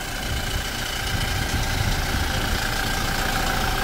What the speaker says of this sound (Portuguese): Ó o motor.